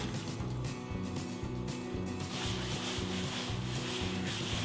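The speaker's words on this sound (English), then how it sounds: "Using the wet float, you just keep rubbing it around." A wet plastering float is rubbed flat across a wall in steady, rhythmic back-and-forth strokes, a close, continuous scraping swish with no talking.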